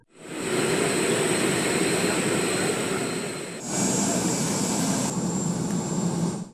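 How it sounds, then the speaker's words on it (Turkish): Oman Air Force jet aircraft escorting a plane as it lands at a royal airport give a loud, steady engine roar with a high whine, briefly dipping then surging again, with no talk. "Öte yandan Umman Hava Kuvvetlerine ait uçaklar özel Sultanlık Havalimanı'na inişinde Cumhurbaşkanı Erdoğan'ın uçağını eşlik etti."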